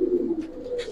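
A Giribaz pigeon gives a low, close cooing that wavers for about half a second, followed by brief rustling sounds and then quiet.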